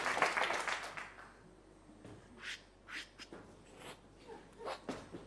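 A person claps their hands in short bursts, miming the action as a guess in a television word game. The claps fall in several separate quick flurries, close and fairly faint, with brief speech between.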